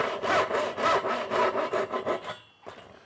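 A hand saw cuts through wood by hand for a chest joint, with steady rhythmic back-and-forth strokes, loud and close, before stopping.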